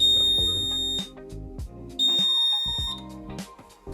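An ESCO fire alarm panel sounds during a reset test with a piercing electronic tone, heard in two loud bursts each about a second long, alongside lower buzzing and tonal layers.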